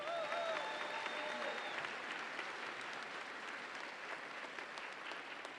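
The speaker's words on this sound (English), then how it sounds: "Let's give them a round of applause." Graduation commencement crowd gives the ceremony staff a round of applause, an even, distant-sounding wash of many hands clapping, fairly quiet overall, with a faint whistle-like tone at the start.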